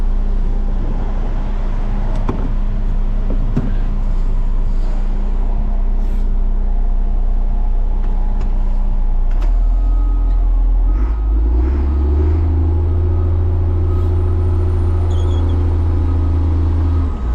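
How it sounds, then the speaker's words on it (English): The diesel engine of a loader idles loudly and steadily as it is parked, with a deep continuous rumble that shifts pitch partway through as the revs change. "Let's get this loader parked"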